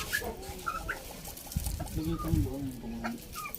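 Turkey hens call and cluck in short bursts, fairly close, over a rustling farmyard background with faint voices.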